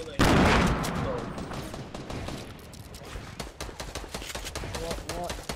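Fortnite gunfire crackles in a loud burst at the start, then continues as a string of sharp, rapid shots under a dense game soundscape, with a voice talking over the action.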